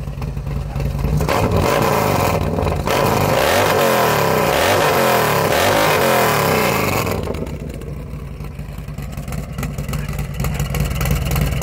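Harley-Davidson Street Glide Special with a big bore kit revving hard, loud throaty engine with rising and falling surges for several seconds before settling back to a rumbling idle, heard close with no talking.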